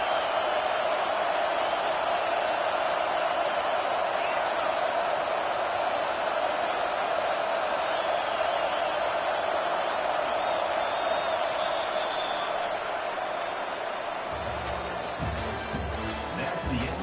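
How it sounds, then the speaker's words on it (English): A stadium crowd roars steadily in the video game College Football 25, a broad sustained wall of noise with a commentator talking over it, shifting near the end. "The roar of the crowd trying to fuel this defense to keep them pinned in their own end."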